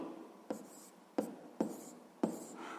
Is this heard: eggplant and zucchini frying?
no